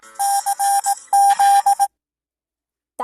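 An emergency alert system alarm tone plays as a loud, bright electronic melody of repeated sustained beeps in two bursts, then cuts to silence before a brief sound at the very end.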